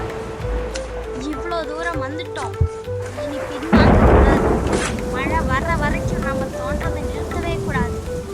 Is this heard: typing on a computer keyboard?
no